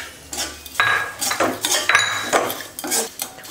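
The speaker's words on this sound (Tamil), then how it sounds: "அதே நெய்யில் சேமியாவை வறுத்துக்கலாம்." Broken vermicelli is stirred as it fries in ghee in a pan, with a spoon scraping and clinking against the metal in irregular bursts, close and fairly loud.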